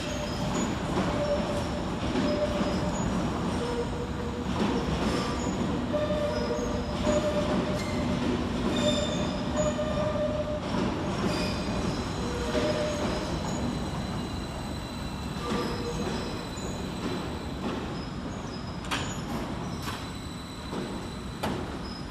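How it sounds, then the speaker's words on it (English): Several Greater Anglia class 755 units arriving from Norwich to terminate at London Liverpool Street, with a steady rumble of wheels on rail, intermittent squeals and clanks, and station ambience throughout. "Arriving to terminate with a Greater Anglia service from Norwich is 755-415, 755-325 and 755-335"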